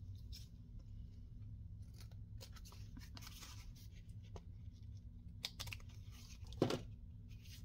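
Paper is cut off for a journal card at a quiet craft table, giving a string of soft, scattered snips and crisp rustles spread over several seconds.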